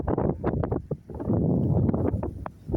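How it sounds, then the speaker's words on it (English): Gusty wind buffets the microphone with low rumbling bursts, loud and close, rising and falling over a few seconds. "It's just a little bit windy."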